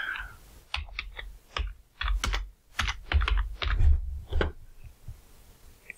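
Typing on a computer keyboard, steady bursts of close, crisp key clicks in an irregular rhythm, with short pauses between runs of keystrokes and no talking.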